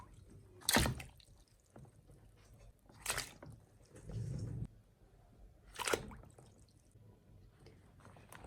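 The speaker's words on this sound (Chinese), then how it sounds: "像这样我们全身给它刷一遍，然后再给它清洗2遍就可以了。" A hairy crab being brushed and rinsed with water, with three loud splashing scrub bursts separated by quieter dripping and a short squishy scrubbing passage, close and without talk.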